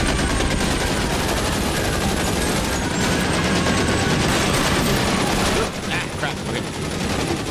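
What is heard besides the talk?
gunfire in the video game L.A. Noire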